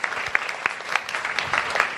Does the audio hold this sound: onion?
no